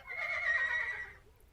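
A horse neighs loudly for about a second, a bright quavering whinny that fades out, with faint low rumble underneath.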